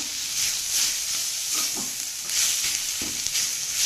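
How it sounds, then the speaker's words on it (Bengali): Kalai greens cooked with beans are stirred in a frying pan, giving a steady sizzle and hiss with soft scraping strokes of the spatula recurring every second or so, close and fairly loud, with no talk. "এই যে খুব নাড়াচাড়া দিতে হবে শাকটা"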